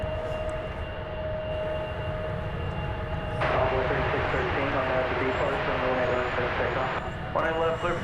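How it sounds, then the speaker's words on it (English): An Embraer 170 airliner on the runway at DFW Airport spools up for takeoff, a steady distant jet whine swelling into a louder rushing roar midway while a voice talks over it. "There goes an Embraer 170 to Amarillo, Texas"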